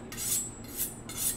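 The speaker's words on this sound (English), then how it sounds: "we're gonna sharpen our knife" A kitchen knife is drawn along a honing steel in three quick, even rasping strokes, each a bright metallic swish about half a second apart, close and moderately quiet.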